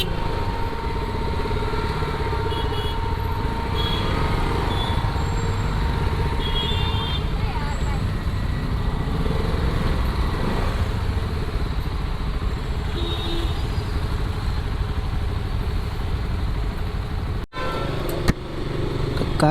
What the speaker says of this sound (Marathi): आज जास्त करून खूपच बघायला गेलं तर ट्रॅफिक जास्तच आहे इकडे